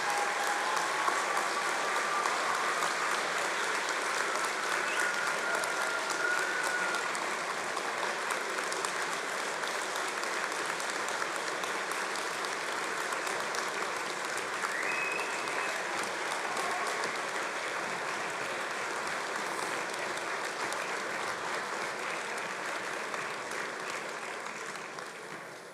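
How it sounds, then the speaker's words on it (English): A large crowd at a London degree ceremony applauds at length, sustained dense clapping from many graduates in a big hall, steady throughout and slowly fading toward the end. "stand up and give them a massive round of applause for the support that they've shown you"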